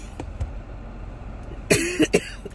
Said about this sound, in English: you don't have to watch me cough on water